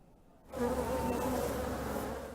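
Bees hum in a dense, steady drone at a local beekeeper's hives where queen bees are raised for honey, starting after a brief quiet moment and then continuing close and constant.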